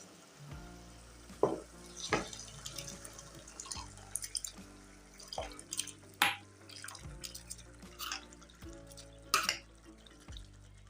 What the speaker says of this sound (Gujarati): આપણે અંદર જે મગ બાફેલા છે ને એ બધા પાણી સાથે જ આપણે એને અંદર નાખી દેવાના છે